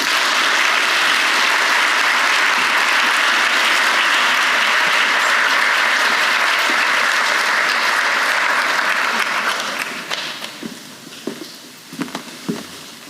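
Loud, sustained audience applause at a university graduation honoring the inaugural 2024 AGACNP, CRNA and DNP class, a dense wash of clapping that fades after about ten seconds into scattered, thinning claps.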